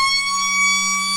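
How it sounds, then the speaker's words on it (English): A football ground siren at a local Ballarat league footy match wails in a long, steady, loud tone with strong harmonics, sustained without a break and with no voices over it. "As you can tell, we're back in local footy when you hear that sort of siren, Kyle."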